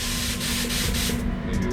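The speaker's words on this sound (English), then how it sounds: "hopefully I'm gonna try and spray at a lower pressure" A paint spray gun hisses steadily at a lowered pressure, a continuous broadband spray sound that holds close and fairly loud, with a few faint soft pulses in the rush.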